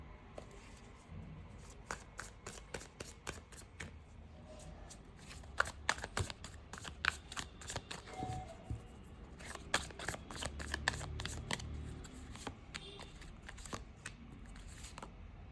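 Tarot cards are shuffled and picked up close by in quiet, papery riffles and soft flicking bursts that come in uneven clusters, with brief handling noises between them.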